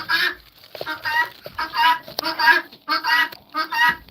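Guinea hens call loudly at night, a burst of harsh repeated honking cries in quick ragged pulses, close and noisy with several birds overlapping.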